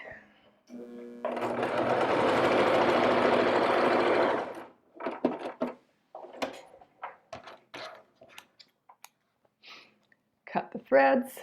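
Sewing machine stitching across the folded edges of a fabric mask runs in one steady, loud burst of about three seconds, then stops, and clicks and handling noises follow.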